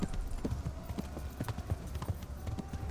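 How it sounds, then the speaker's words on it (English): A horse gallops in the medieval video game Kingdom Come: Deliverance, its hooves pounding in a quick, steady rhythm, fairly close and continuous, with faint background noise. "O galope é a velocidade mais rápida. Vai! Difícil manobrar o cavalo."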